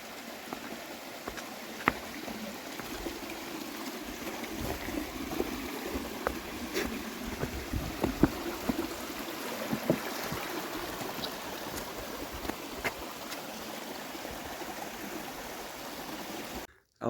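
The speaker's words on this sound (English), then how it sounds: "That's not a waterfall, it's just a cool stream." A small mountain stream in the Catskills flows steadily on a hiking trail, its continuous watery rush and trickle holding at an even level throughout, with no voices.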